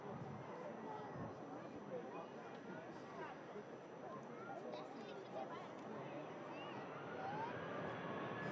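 An Emirates Airbus A380 airliner departs from runway 23 left, a steady, loud broadband jet roar that swells slightly near the end and carries continuous engine noise throughout.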